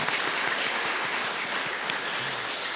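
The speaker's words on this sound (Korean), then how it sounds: "새가족석이 계신데 여러분 큰 박수로 환영해 주시기 바랍니다" A church congregation at a Sunday service claps steadily to welcome newcomers, a dense, even round of applause from many hands filling the hall with no voices over it.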